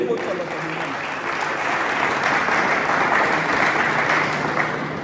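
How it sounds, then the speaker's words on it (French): An audience at a Kinshasa sound festival applauds in a thick, continuous wave of clapping that swells slightly and holds steady, with faint voices underneath. "On peut l'applaudir, s'il vous plaît"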